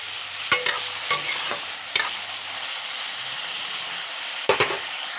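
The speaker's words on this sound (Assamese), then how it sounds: "এনেকৈ পনীৰখিনি অলপমান ভাজি লওঁ।" Paneer pieces fry in hot oil with a soft, steady sizzle, broken by a few sharp clinks of a spatula stirring in the pan; no one speaks.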